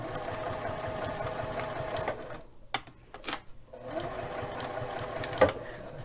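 A sewing machine stitches a fabric bag in fast, steady whirring bursts, pausing briefly midway with a few clicks before running again, close and moderately loud.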